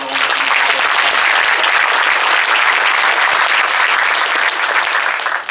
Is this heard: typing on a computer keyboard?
no